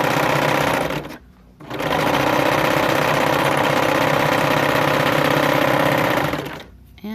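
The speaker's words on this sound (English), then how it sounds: "my serger, but you can easily use a sewing machine" A serger stitches fabric for a hairbow, its fast steady mechanical whir running loud and close, pausing briefly once near the start and again near the end.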